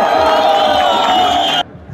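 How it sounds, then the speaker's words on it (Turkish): Rally crowd at an anti-coup democracy gathering in Akçakale, Turkey, cheering and whooping loudly in a dense sustained roar that cuts off abruptly near the end. "Alkışlarla."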